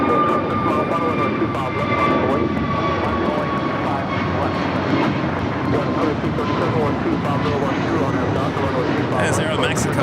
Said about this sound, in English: As Aero Mexico Flight 647 heading to Mexico City, a 787-8 Dreamliner